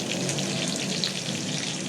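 Pangas fish frying in two spoons of hot oil in a pan on a stove, a steady dense sizzle with fine crackling pops, close and continuous throughout with no talk.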